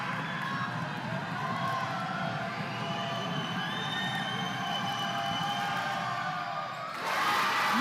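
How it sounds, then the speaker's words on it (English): A basketball crowd at a boys' district high school game roars loudly and continuously during free throws, with cheering and shouting that swells sharply near the end. "The crowd for Rio Hondo on the edge of their seat, making a lot of noise."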